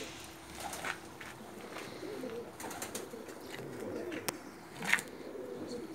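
Pigeons coo softly on a rooftop loft in Jeddah, Saudi Arabia, low repeated calls spread across the moment, with faint scattered movement and light background noise around them.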